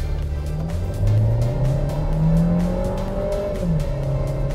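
Volkswagen Taos compact SUV at full throttle in Sport mode, a loud interior engine drone rising steadily in pitch, with a brief drop at a gear shift before climbing again, continuous and close.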